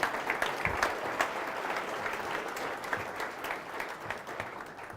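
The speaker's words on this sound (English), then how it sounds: "Give them a big round of applause." A keynote audience at a Rose Bowl speaker series gives steady, moderately loud applause, a dense patter of many hands clapping throughout, with no talking.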